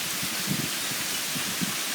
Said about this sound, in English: Rain's blowing all over my face.